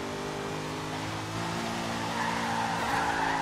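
Sustained engine roar with a broad hissing tire-slide layer from a naturally aspirated Chrysler 300C SRT8 drifting sideways in Forza Horizon 3, steady and loud throughout, with no talking.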